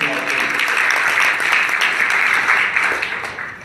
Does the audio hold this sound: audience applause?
yes